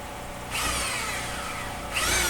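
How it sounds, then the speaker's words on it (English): An 18-inch belt sander powered by a generator whines into life twice for fine sanding, with a first long burst, a brief drop, then a second start, all loud and close with no talk. "here it is, the belt sander plugged in the generator, and I'm using some finer sanding"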